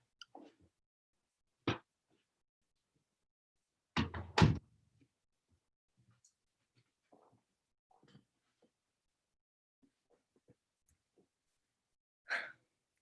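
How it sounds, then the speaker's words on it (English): An office door swings shut with a couple of sharp, close thuds in a quiet room, surrounded by a few faint scattered rustles and small knocks. "let me close my door real quick"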